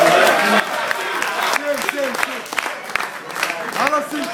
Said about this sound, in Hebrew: כפיים למיכאל